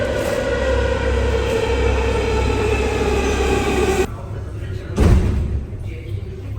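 Loud rumble of a Paris metro train running, a steady roar with a whining tone that drops away, then a sharp clunk or slam and quieter station ambience, with voices underneath.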